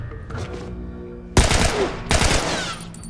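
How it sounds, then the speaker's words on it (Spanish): Machine gun fire in The Last of Us video game: two loud, dense bursts of rapid shots roughly a second long each, following a quieter stretch of low game ambience. "Voy a sacar la ametralladora"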